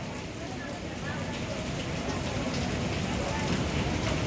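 Rain falls steadily at Ganpatipule temple, a constant broadband hiss of drops on surfaces that grows slightly louder, with a voice speaking over it.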